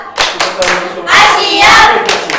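A classroom group claps through a rhythmic "tepuk siap" routine in short bursts of sharp, loud hand claps, with brief pauses between the bursts and children's voices faintly mixed in.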